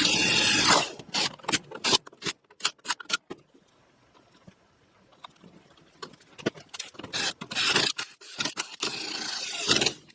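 A power driver on its lowest setting runs bolts into the final drive of a Honda FourTrax 300 ATV, giving short whirring bursts with metallic taps and rattles, louder at the start and end with quieter handling noises between.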